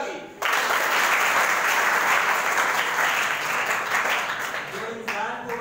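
Audience at a school program breaks into loud applause, many hands clapping in a dense sustained burst that tapers slightly before a voice returns at the end.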